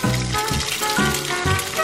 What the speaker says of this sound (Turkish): Şimdi onu yağda kızartacağım.